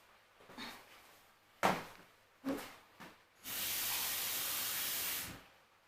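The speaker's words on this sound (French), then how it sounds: "je vais encore ajouter un peu de l'eau pour que ça rôtisse encore plus davantage" Water poured into a hot pan of roasting white cabbage bursts into a loud, sustained hiss of steam lasting about two seconds, after a few softer clatters and knocks at the start.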